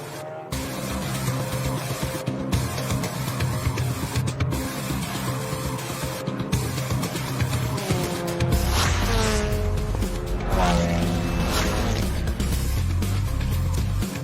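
TCR Australia touring cars, led by an Audi, run at reduced pace behind a Hyundai safety car at The Bend Motorsport Park; a steady engine drone fills the whole stretch, with a commentator talking over it.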